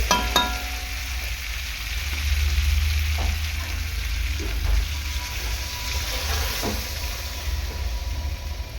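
Steady sizzling of vegetables frying in a pan, close and moderately loud, with occasional clinks and a low continuous rumble underneath.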